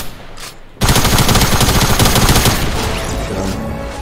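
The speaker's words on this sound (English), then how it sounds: "I bet I'm gonna win this gunfight." Rapid automatic gunfire from a video game gunfight erupts suddenly after a quiet moment and sustains as a dense, loud burst of rattling shots that continues to the end.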